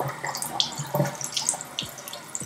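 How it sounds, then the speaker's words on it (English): Hands being washed under a running bathroom tap, a steady close stream of water with light splashes and drips as the hands move beneath it. "I'm gonna wash my hands"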